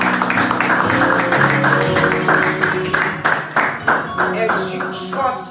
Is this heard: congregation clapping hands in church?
yes